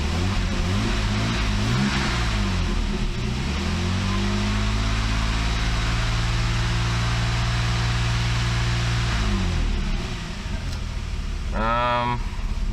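A Mercedes 300TE W124 wagon engine, mid coolant-system repair, revs up steadily from idle, holding a loud, rising drone for several seconds before settling back down to idle.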